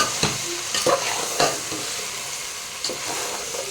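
Chicken pulao mixed with about half a cup of yogurt in a pan, stirred with a spoon in a few sharp scraping strokes over a soft background sizzle, heard up close.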